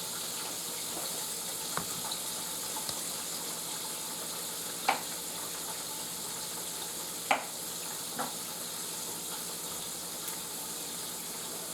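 Smallmouth bass fillet frying in a crowded pan gives a steady, moderately loud broadband sizzle throughout, with a few sharp clicks and pops standing out now and then.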